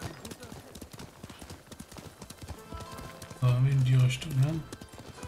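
Horse hooves clip-clop in a steady, even rhythm throughout in the video game Ghost of Tsushima. Someone talks over the hoofbeats partway through.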